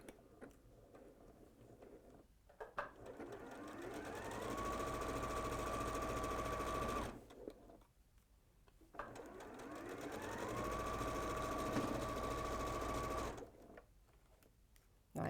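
A sewing machine runs in two steady bursts of several seconds each, a fast even whir with ticking stitches, while sewing a lock stitch where two rows of wrap-around hexie patchwork meet, with short quiet pauses between runs.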